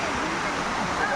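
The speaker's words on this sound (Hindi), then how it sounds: "ये रहा झरना" The waterfall at Ranidah gives a steady, loud, even rush of falling water that fills the whole moment without a break.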